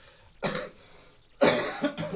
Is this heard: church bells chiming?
no